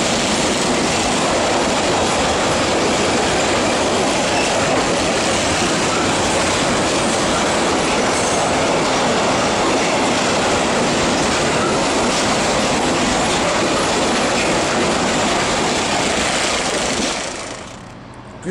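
A freight train runs through Ulm main station on the platformless track, a loud, dense roar of wheels and wagons continuing steadily for most of the stretch before cutting off abruptly at the end.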